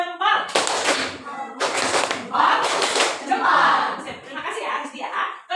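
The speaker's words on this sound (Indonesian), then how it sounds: "Keren. Tepuk jempol." Pupils in an elementary school classroom give a short thumb clap for a classmate, several quick bursts of clapping and tapping close by, broken up by children's voices talking.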